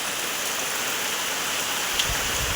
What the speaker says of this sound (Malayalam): ദേ പുറത്ത് മഴ മഴ മഴ മഴ മഴ